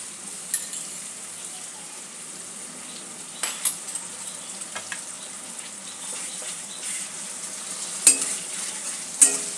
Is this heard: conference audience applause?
no